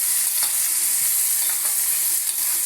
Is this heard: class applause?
no